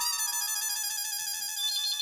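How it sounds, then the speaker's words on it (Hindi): A telephone rings with an electronic ringtone, a steady bright tone with many layered harmonics that plays continuously and fairly loud, with no one speaking over it. "फोन आया।"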